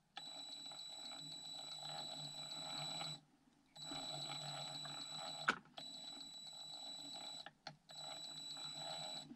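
A budget crawler's motor whines steadily under a Carisma ARC-2 ESC set to 4 kHz, a faint high-pitched electronic tone that cuts out briefly several times, with no talk.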